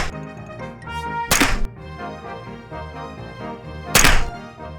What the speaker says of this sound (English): Or throw a tomahawk.